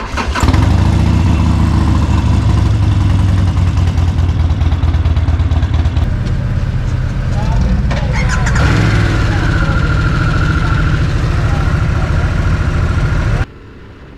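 Harley-Davidson Sportster XL1200C and Sportster S engines starting one after the other, each cranking and catching into a loud, close, rumbling idle, then cutting off abruptly near the end.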